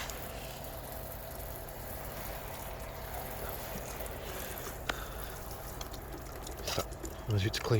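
Water runs steadily from the head of a homemade 12V solar camping shower in a continuous hiss and patter, with brief clatters and handling noises near the end.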